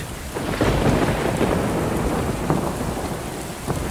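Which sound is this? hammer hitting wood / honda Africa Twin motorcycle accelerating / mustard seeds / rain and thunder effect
rain and thunder effect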